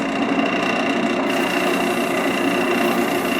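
A wood lathe turns a sycamore bowl blank at slow speed, giving a steady motor hum and whirr that carries on without a break and without talk.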